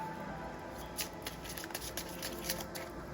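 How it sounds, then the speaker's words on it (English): Tarot cards being shuffled by hand, a close run of soft papery riffles and flicks over about three seconds with a faint room hum beneath and no talk. "Tarot cards."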